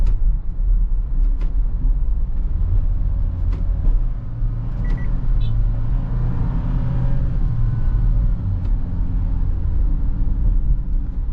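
Toyota Hiace van engine, Japanese-market model with a manual-shift mode, running from inside the cabin as gears go from fourth up to sixth, a steady low rumble with revs falling, faint and even, no talking.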